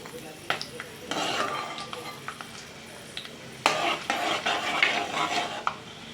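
Cashews and almonds being sautéed and stirred in ghee in a pan for sweet saffron rice, with scraping spoon strokes and a soft sizzle, quiet at first then busier and louder toward the end.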